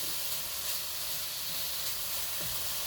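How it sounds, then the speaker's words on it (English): Ahi tuna sizzles and caramelizes in a hot pan with a steady, even hiss that runs throughout, fairly faint and with no talking. "I hope you can hear that sizzling"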